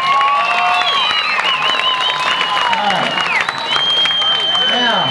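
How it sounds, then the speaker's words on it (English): An audience applauds and cheers loudly at a 1996 GT Bicycle BMX airshow demo held at a bike shop in Katy, Texas. Steady crowd noise runs through the whole stretch, with shrill whistles rising above it. "Another big round of applause for Kevin Gutierrez."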